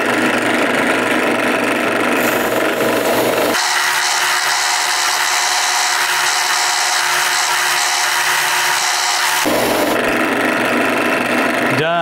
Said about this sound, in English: can see how effective the sanding wheel is at taking them off.